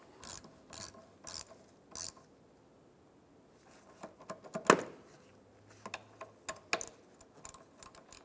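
A hand ratchet snugs down the negative battery cable terminal on a 2003-2007 Infiniti G35: quiet, close clicking in several short runs of rapid pawl ticks, separated by pauses and small handling clicks, with no talk.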